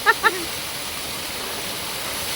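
Water pours steadily from a forest waterfall near Ghatkopar as an even, continuous hiss, with two short vocal sounds at the very start.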